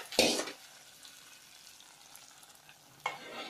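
Ingredients being stirred and mixed by hand for steamed jowar kudumulu, with a brief scraping burst at the start and another near the end, separated by quiet background.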